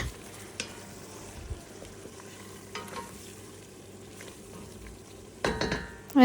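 Shrimp biryani with tomato paste being stirred in a pan: quiet scraping strokes over a faint sizzle, with a sharper utensil clatter near the end.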